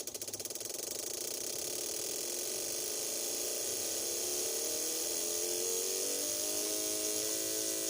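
A 1996 Suzuki Baleno engine revs up and holds a high, steady whine that climbs in pitch, loud and close, with no talk over it.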